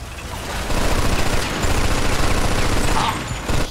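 Artillery and heavy gunfire from the Mafia 2 video game's old-country war scene, a loud, continuous barrage of rapid bursts and rumbling booms with no letup.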